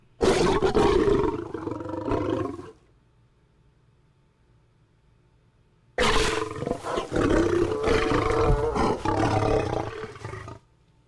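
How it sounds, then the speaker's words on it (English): Loud lion roar sound effect in two long bursts, separated by a few seconds of near silence, with no talk over it. "Can I get a lioness?"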